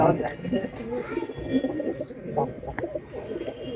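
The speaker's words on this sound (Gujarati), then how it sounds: "હજી તમને એકવાર હજી અમારા કબૂતર બતાવી દીધું" Domestic pigeons housed in a coop built on top of a water tank coo in a low, repeated murmur, with several birds overlapping throughout at close range.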